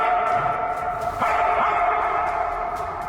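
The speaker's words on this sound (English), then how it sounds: "A dog wandered in and began growling in front of the Virgin Mary statue." A dog inside a church gives a low, steady growl with rough throaty tone throughout, loud and close, in a reverberant interior with no talking.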